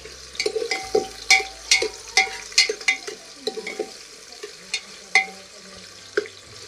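Ingredients for masale bhat being stirred and dry-roasted in a pan, giving repeated scraping and stirring strokes over a soft background sizzle. The strokes come at an irregular rhythm, close by and moderately loud, with no talking.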